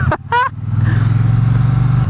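Triumph Bonneville 1200cc motorcycle engine heard up close, a loud steady low burble with faint pops on the overrun, after a short vocal sound at the start.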